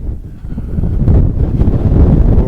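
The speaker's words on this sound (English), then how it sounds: "It's still very windy" Strong winter wind buffets the microphone on a beach dune at Cape May, a loud, continuous low rumble that swells and stays heavy throughout, with faint surf-like wash beneath.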